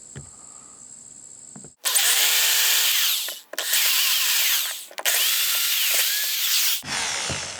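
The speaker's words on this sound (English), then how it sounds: "I'm gonna take a drill and punch 2 new holes" A power drill whirs loudly in several bursts, stopping briefly between runs as it bores holes in a boat, close by with no talking.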